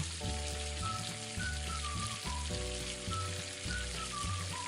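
Papad and potato curry simmering covered in a pan, a steady soft sizzle with a faint watery bubbling texture running evenly throughout, alongside a low background hum.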